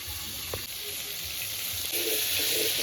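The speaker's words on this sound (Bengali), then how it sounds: "এবার চিংড়ি মাছগুলো ভেজে নেব" Prawns fry in a pan with a steady, hissing sizzle that swells slightly toward the end, accompanied by a few faint clinks.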